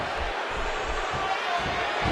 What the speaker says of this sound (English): The cheers for HBK already starting up from his home state fans